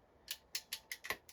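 Textured black material is cut with scissors, giving about seven quiet, crisp snips in an uneven rhythm, close by with no talk.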